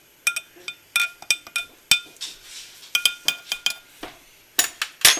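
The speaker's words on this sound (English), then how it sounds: "I'm gonna give it a stir one more time" A spoon stirring caramel sea salt herbal tea in a cup, a quick series of bright clinks against the sides, irregular and close, about two dozen taps.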